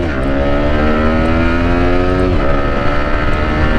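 A motorcycle launching from standstill to 100 with a quick shifter plus, no clutch: a loud, steady engine note climbs in pitch, then drops sharply at one clutchless upshift and climbs again, close and alone.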